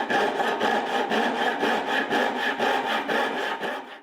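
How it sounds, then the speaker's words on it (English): Japanese pull saw cutting down the center of a small wooden tenon, 1/4 inch thick, for a nightstand; close, rhythmic rasping strokes at about two per second, steady and alone. "So we're going to go back to the pull saw."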